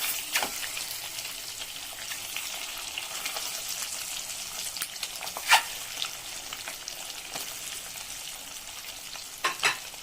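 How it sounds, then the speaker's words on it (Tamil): Masala sautéing in plenty of hot oil for spicy egg curry, a continuous soft sizzle with occasional sharp spatula scrapes and taps against the pan, close and without talk. "ஒரு 2 நிமிஷம் வதங்கிட்டது. அப்படியே லைட்டாக அப்படியே அசைக்கி விடுவோம்."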